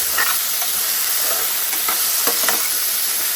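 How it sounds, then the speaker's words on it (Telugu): Potato pieces fry in a pan on a medium-flame stove for a crispy potato fry, with a loud, continuous oily sizzle and occasional scraping stirs of a spoon close by. "ఇప్పుడు నేను ఈ పొటాటోస్ని ఇందులోకి వేసి మిక్స్ చేస్తున్నాను"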